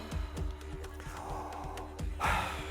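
Slow deep breathing during a tension-releasing breathing exercise, one long audible inhale or exhale, faint and close.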